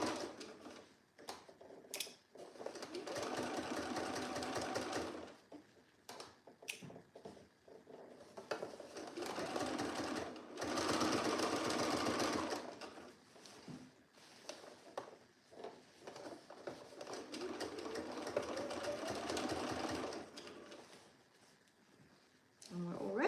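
A sewing machine stitches a trouser seam in several long runs of steady, fast whirring, close and moderate in level. Short pauses and handling noises separate the runs.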